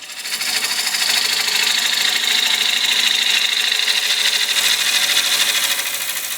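Bowl gouge cutting wood on a spinning lathe, a steady loud hissing, scraping rasp that holds continuously for several seconds, close up, with no voices.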